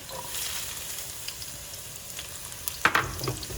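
Shallot and fennel tossed into hot oil, a soft steady sizzle with a sharper burst of crackling near the end as the pieces hit the pan.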